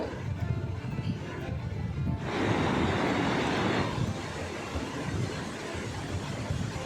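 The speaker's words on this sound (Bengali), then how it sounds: "দেখুন তিস্তা সেই ঢেউ দিচ্ছে কীভাবে" Waves on the Teesta river churn as a steady broadband wash, with a louder surge swelling for a couple of seconds midway before settling back into a continuous rushing hiss.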